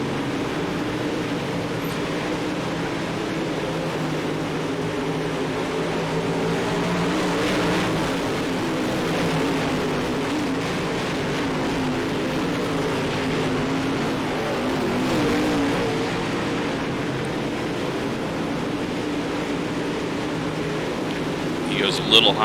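An engine drones steadily and loudly throughout, rising and falling slightly with throttle. The engine is a UMP modified dirt race car in the iRacing sim at Volusia Speedway Park. A voice comments over the racing.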